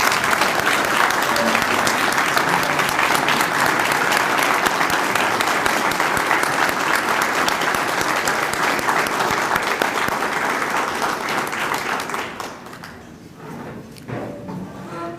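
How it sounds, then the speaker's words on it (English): An audience at a military awards ceremony applauds competitors, a loud, sustained round of clapping that holds steady, then fades and thins out near the end as a few scattered noises and movement remain. "Let's give these competitors one more round of applause."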